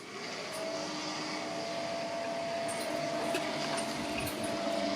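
A steady, even whir of a toilet-room ventilation fan fills the room at constant level, with a faint tonal hum and a few light clicks in the background.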